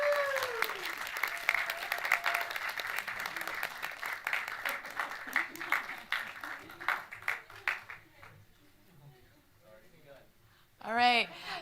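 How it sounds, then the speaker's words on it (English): An audience at a university MFA interaction design thesis festival applauds the graduating class, a dense burst of clapping with cheers that thins out and fades, followed by a brief close sound near the end. "Big round of applause for the class of 2023."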